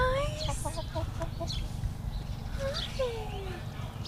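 Chickens cluck in an urban garden with kale, tomatoes and berry bushes, their short repeated calls and a few rising squawks carrying at moderate distance over a steady low background rumble.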